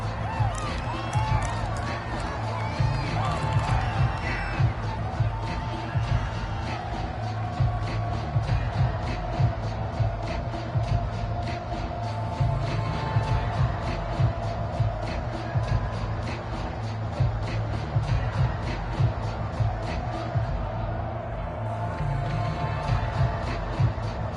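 A packed NFL stadium crowd at a Bengals game keeps up a steady, dense roar of cheering that fills the whole stretch, with a commentator talking over it.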